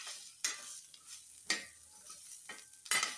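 Spatula stirring coriander-cumin powder into roasting onion and grated coconut in a hot pan, soft scraping strokes at irregular intervals over a faint sizzle, quiet and close with no voices.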